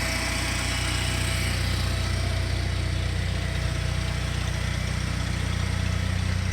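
An engine with a new carburetor idles steadily after the choke is taken off, a constant even drone with a low rumble that holds unchanged throughout, with no talking.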